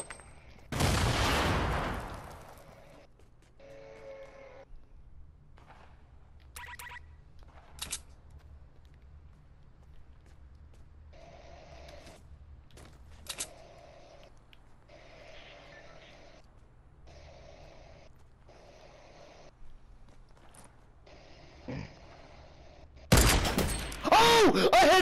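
Sniper rifle shots in a video game: a loud, sharp burst near the start and another at the very end, with quieter scattered in-game sounds in between.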